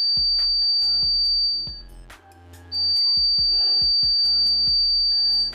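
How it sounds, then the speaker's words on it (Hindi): A steady high-pitched electronic beep from a short-circuited power supply's shorting alarm drones almost continuously, briefly dropping out in the middle, over a series of dull knocks and clicks. "आपको बिप सुनाई दे रही है तो ये शॉर्टिंग की बिप है"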